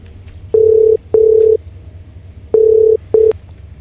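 A telephone ringback tone sounds loud and close as two pairs of steady electronic buzzes, separated by a short pause, with no other sound around them.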